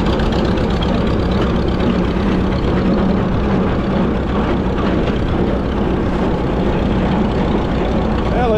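A Minneapolis-Moline ZBE tractor engine with a carburetor problem runs steadily in fifth gear, a loud, continuous low rumble that holds close and even throughout with no pauses.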